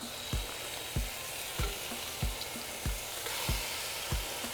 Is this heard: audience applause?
no